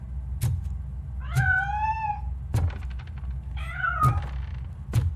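A cat meows twice in the video game RoboCop: Rogue City, drawn-out rising-and-falling calls set between several dull thumps or knocks, close and clear with no talking.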